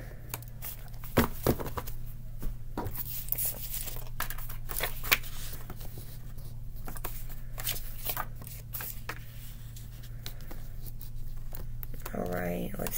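A deck of cards is shuffled by hand during an angel number card reading, giving repeated crisp riffling and sliding bursts close by, with a person talking quietly at points.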